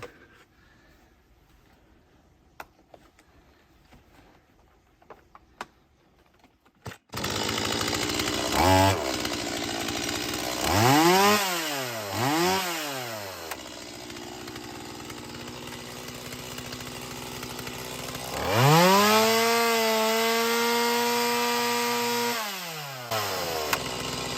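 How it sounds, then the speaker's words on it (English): A chainsaw is pulled several times then roars to life, its engine revving up and down loudly in surges before settling into a steady idle. "put the chainsaw between your legs and start it"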